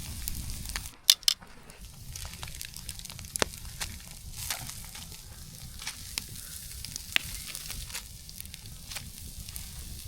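Apples with butter cooking over a campfire while solo camping in a snowstorm: a soft, steady sizzle and crackle with a few sharp pops and clinks near the start, no talking.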